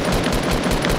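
Rapid automatic gunfire from a Fortnite match rattles continuously and loudly, dense bursts with no pauses and no voices.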